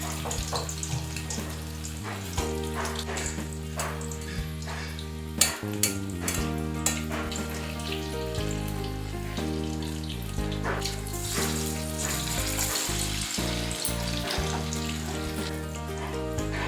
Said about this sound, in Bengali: এবার আমি একটা একটা করে পকোড়া ছেড়ে দেবেন